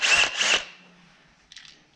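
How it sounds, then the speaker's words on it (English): Power drill boring a small hole through the inner panel of a 2011-2019 Ford Fiesta front door, two loud close whirring bursts followed by a fainter brief spin-up, no talking. "I'm gonna drill where I pulled the connector off."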